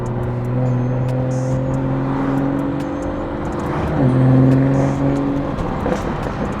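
A BMW F30 with a B58 engine, MST Performance intake and a breaking-in exhaust, running cold at a steady, throaty idle; the low hum shifts and swells briefly near the end with a light rev, close and continuous.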